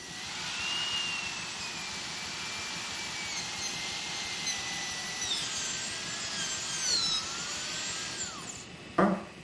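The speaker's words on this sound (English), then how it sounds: "A high-speed diamond burr is used to remove the glaze from a 1 millimeter zone of porcelain around the screw access hole." High-speed diamond burr grinding glaze off the porcelain around an implant crown's screw access hole: a steady, close, high-pitched whine with wavering pitch, ending in a brief knock.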